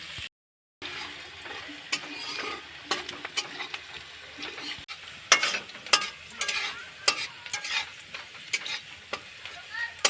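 Chopped onions fry with peanuts in a pan for kande pohe, a continuous close sizzle broken by repeated scraping knocks of a spoon stirring against the pan.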